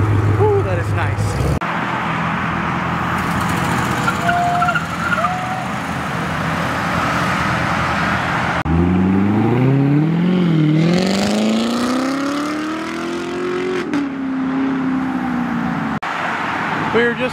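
Corvettes leaving a car show at Twin Peaks, engines revving hard and rising in pitch as the cars accelerate away and pass close by, loud against a busy crowd backdrop.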